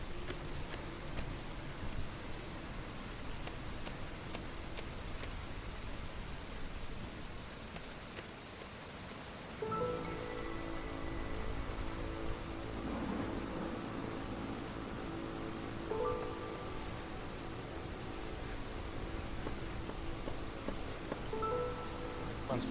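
Steady rain and storm noise in the Against the Storm video game, a continuous hiss that swells after about ten seconds and holds at a moderate level, with layered game tones and no talk.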